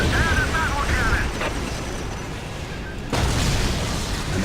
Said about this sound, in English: Prepare the battle cannon.